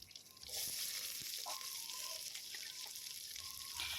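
Prawns frying in a pan, a steady broadband sizzle that stays loud and continuous throughout with a few brief clinks and faint stirring noises, no voices.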